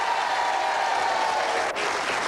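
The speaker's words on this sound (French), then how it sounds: "Vous avez applaudi Isabelle Nanty" A studio audience at a French television quiz show applauds steadily and loudly for a full stretch, the dense clapping sustained throughout with only a brief dip near the end.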